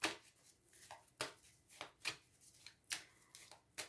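Oracle cards shuffled by hand in quick bursts, several crisp riffling swishes repeating at a steady pace, close and clear with no talking.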